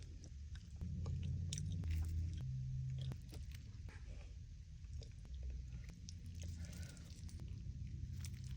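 Someone bites into a calamari taco with fries nearby, producing soft, close crunching and chewing over a low background hum.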